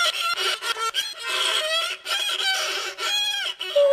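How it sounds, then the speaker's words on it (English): A violin is bowed badly, producing scratchy, wavering, squeaky tones in uneven strokes with brief breaks, fairly close and heard alone. "The violin has 4 strings, and you move the bow across the strings to make a sound."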